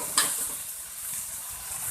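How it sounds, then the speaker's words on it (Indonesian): Spice paste for Betawi lontong sayur sizzles as it is sautéed in a pan, a steady close hiss with a brief sharper crackle near the start. "Kita tumis bumbunya sampai matang ya."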